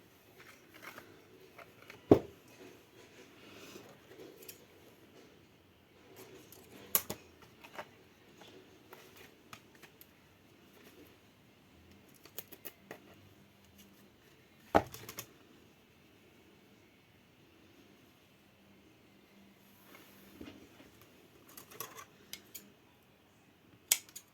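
Scissors cutting ribbon, heard as scattered crisp snips and small clicks, close and fairly quiet, with soft handling rustle between cuts.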